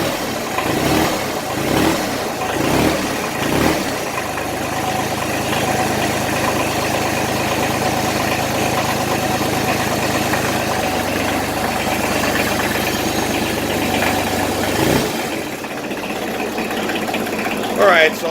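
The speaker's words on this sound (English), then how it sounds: "Sounds like a diesel, but it doesn't sound like it's rattling." A Kubota L295DT tractor's diesel engine running after a cold start, loud and close with a steady knocking idle and a brief rev near the start, a voice talking over it.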